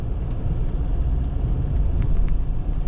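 A Chrysler 300C engine idles quietly and steadily as a low, even rumble with soft ticking on top, heard close and alone with no talking.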